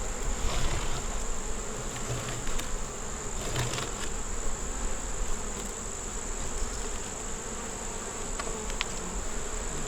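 Honey bees buzzing at an opened hive, a dense continuous drone of many insects close by, with a few faint clicks and knocks mixed in.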